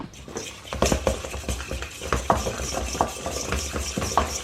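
Spoon stirring spice and black pepper through chicken for a creamy paprika dinner, giving a run of close, irregular scraping and clinking knocks against the pan or bowl, with faint sizzling underneath and no talk.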